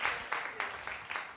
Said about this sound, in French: On les applaudit très Merci. fort.